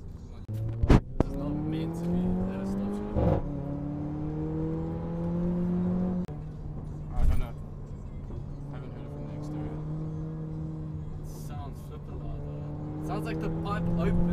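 A Mercedes A45 AMG accelerates with a droning exhaust note that climbs in pitch through the gears, with sharp exhaust pops and a louder, valve-open tone, heard from inside the car under occasional talk.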